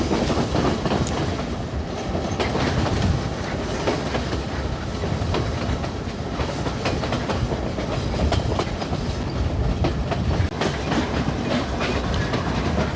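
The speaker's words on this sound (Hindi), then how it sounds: "ट्रेन का सफ़र हो तो ऐसा" A passenger train runs through Sri Lanka's hill country railway past tea gardens, its steady rumble and clickety-clack of wheels on rails continuous and close throughout, with no voices.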